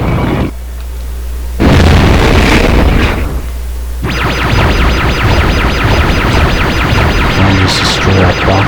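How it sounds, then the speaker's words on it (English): A box smashed apart in Spyro Year of the Dragon on PS1, heard as loud bursts and crashes followed by a sustained layered burst of game sound effects, with no talking. "I'll just destroy that box over here."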